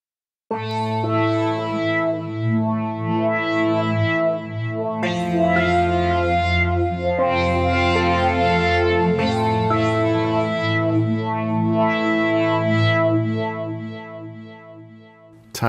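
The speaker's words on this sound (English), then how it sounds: "Let's try a couple of wet or reverberant sounds." Wet, reverberant effected guitar from the Guitar Fury sample library by Sample Logic, swelling chords with long echoing tails that rise and fall in several phrases, loud and alone before fading out.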